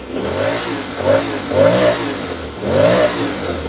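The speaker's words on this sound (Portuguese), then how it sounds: "ouvir um pouquinho o ronco aqui, que você consegue colocar em neutro" A Honda X-ADV maxi scooter engine revs in neutral in repeated bursts, about four rising pulls, dropping back to idle between each, close and fairly loud, with a slightly rough tone.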